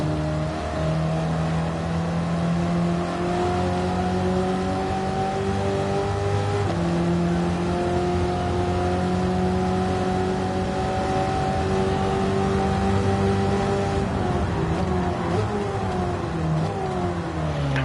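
A racing video game car engine revs steadily and loudly with rising and falling harmonic pitch as it accelerates through gears, unaccompanied by talk; the car runs without wide wheels fitted.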